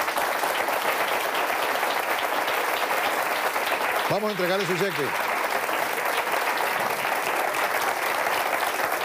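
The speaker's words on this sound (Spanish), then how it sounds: "Un aplauso para él." A studio audience at a Spanish-language TV quiz show, Quién Quiere Ser Millonario, applauds steadily throughout, a dense continuous wash of clapping under a host's voice speaking briefly midway.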